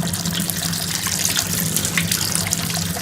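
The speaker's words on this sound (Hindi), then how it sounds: "अब हम इसके ऊपर ठंडा पानी डाल देंगे" Cold water poured over strained cooked sago, a steady close splashing and gushing stream running continuously without pause.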